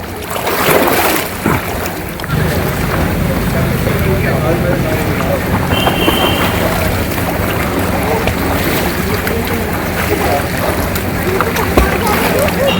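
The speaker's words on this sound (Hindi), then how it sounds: "तेज हवा चल रही है, धूल उड़ रही है" Strong wind blowing dust outdoors after a swimming class, a loud, constant roar and buffeting against the microphone throughout, with someone talking over it.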